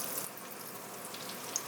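Soft, steady sizzling of eggplant slices in a pan, fairly quiet and continuous, with a faint tick near the end.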